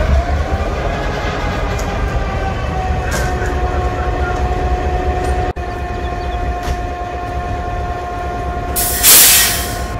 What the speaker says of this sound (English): Here we're in the another electromotive diesel, GATX GP38-2.